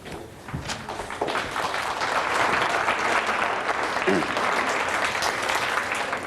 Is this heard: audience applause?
yes